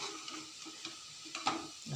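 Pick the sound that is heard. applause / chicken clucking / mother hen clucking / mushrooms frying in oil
mushrooms frying in oil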